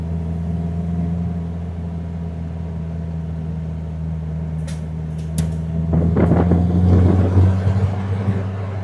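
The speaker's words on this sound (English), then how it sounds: "It's got a great sound, this car." A red Triumph TR2 classic sports car engine drones steadily at a low, even pitch, then swells slightly with a few knocks and clatters near the end.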